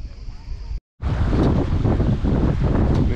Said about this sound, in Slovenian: Začel je veter pihati